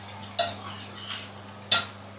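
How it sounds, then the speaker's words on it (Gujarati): Stirring of a hot tempering of oil and black pepper powder for sambar in a pot, with a low sizzle running underneath and two sharp metallic scrapes of the spoon against the vessel. "ગરમા ગરમ સાંભારનો વઘાર થઈ રહ્યો છે."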